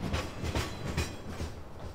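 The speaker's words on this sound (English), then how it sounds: "Now let's send off the train." A train pulling away in the farming video game Farming Simulator 15, with soft rhythmic clickety-clack of wheels and a low rumble, moderately close and steady.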